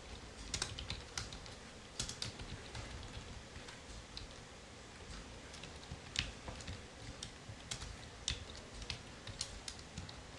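Typing Python code on a computer keyboard, with continuous quiet key taps and occasional sharper clicks, close and soft over a faint background hiss, no talking.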